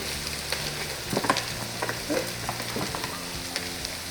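Cubed butternut squash dropped into softened onions in a pot, bringing a steady close sizzle and frying hiss with a few stirring scrapes and clatters.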